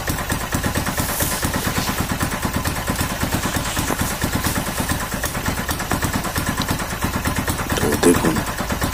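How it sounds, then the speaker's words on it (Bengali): A Chinese diesel engine with excessive injector nozzle pressure runs with a fast, even knocking beat, loud and close, and someone talks over it. "নজলের প্রেশারটা বেশি আছে, সেই জন্যে ইঞ্জিন ঢাক ঢাক করে আওয়াজ মারছে।"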